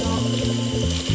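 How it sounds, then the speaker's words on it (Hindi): Water pours steadily and loudly into flower pots outdoors in hot sun, a continuous gushing stream with slight shifts in tone as the pots fill. "मम्मी इनमें थोड़ा सा पानी डाल रही हैं"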